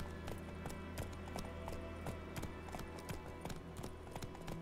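Horse galloping in The Witcher 3 video game, a steady rapid clip-clop of hooves with sharp regular impacts over a constant background, faint and unaccompanied by talk.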